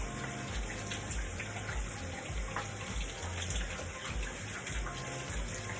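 Shower water runs steadily during an in-shower face rinse, a constant dense hiss and splash close by with no speech.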